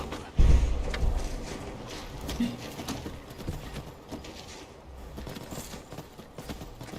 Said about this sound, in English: My old trusty steed, Rigmar.